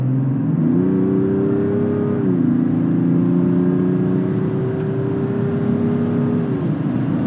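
A Mazda CX-60's 3.3-litre diesel engine revs hard under kickdown acceleration, a steady droning tone climbing in pitch, dipping briefly at a gear change, then pulling strongly again; no voices.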